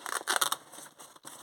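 Scissors snipping through knitting yarn from a loom-knitted striped scarf, a few quick crisp cuts close to the microphone, the blades closing in short bursts.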